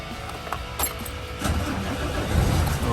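A 16-year-old Fuso Super Great ten-wheeler truck with a 6M70 semi-electronic diesel engine cranks with a few starter whirs, then catches and settles into a loud, rumbling idle.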